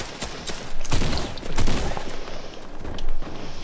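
Enemy gunfire in a video game, bursts of rapid shots rattling and booming in several waves, fairly loud and close, with dense overlapping reports.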